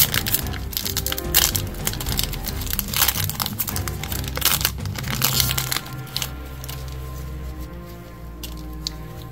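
A Sorcery trading card booster pack is torn open and handled up close, with a run of sharp crinkling, crackling foil and paper sounds that ease into quieter rustling toward the end.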